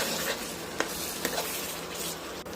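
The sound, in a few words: stirring tamarind juice into eggplant curry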